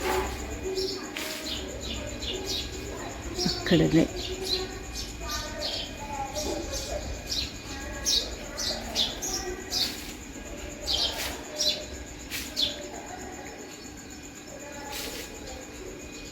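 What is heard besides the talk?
birds chirping noisily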